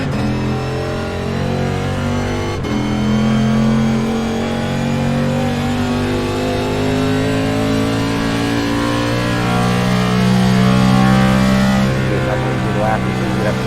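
Race car engine pulling steadily in fourth gear around a track, a loud continuous drone with rising harmonic tones and a brief sharp click near the start.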